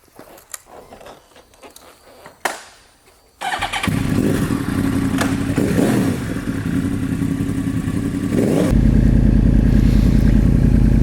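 A Yamaha R1 sport motorcycle engine rumbles on a test drive, faint clatter at first, then a sudden loud, steady running roar that grows even louder near the end, with no voices.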